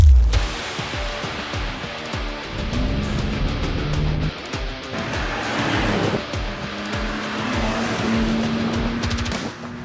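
A BMW M2 is driven hard, its engine note rising and falling through gear changes with a brief tire squeal; the car sounds close and fairly loud throughout, with no talk.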